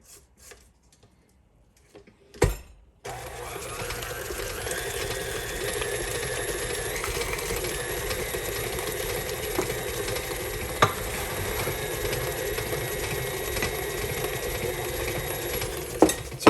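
An electric mixer blends half and half and vanilla into cinnamon roll cookie dough, starting after a couple of faint knocks and then whirring steadily and loudly, with occasional clicks.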